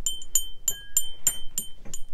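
A hand-painted white satin Fenton glass bell with a sugary finish rings when handled, giving about eight bright, clear chimes in quick succession, close and loud, each briefly ringing on.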